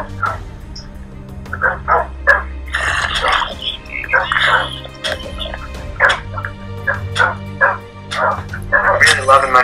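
Dogs bark repeatedly in a Minecraft mob arena, a rapid series of sharp game barks and yips over a low background hum, with a voice talking now and then among them.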